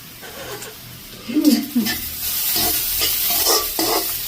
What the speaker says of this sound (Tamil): மஞ்சள் தூளை போட்டுட்டு மிக்ஸ் பண்ண போகிறோம்.